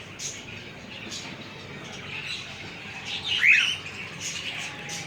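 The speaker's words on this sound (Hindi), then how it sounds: "और ये हैं मेरे दूसरे तोते" Faint parrot and cockatiel chirps and a brief squawk over a steady background hiss, with one sharper call standing out near the middle.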